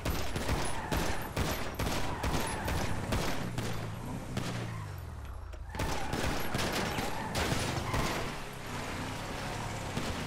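Rapid bursts of gunfire crackle from a video game, steady volleys with a short lull midway, then the shooting resumes.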